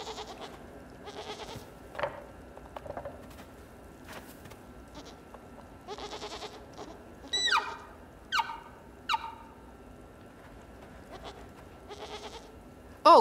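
Goats bleat in the video game Blanc, several short wavering calls scattered over a quiet game soundscape, with a cluster of louder bleats near the middle and softer ones at the start and end.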